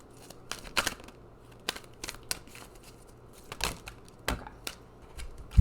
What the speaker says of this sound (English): I want to give these a good shuffle.